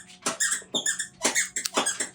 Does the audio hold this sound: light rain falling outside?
no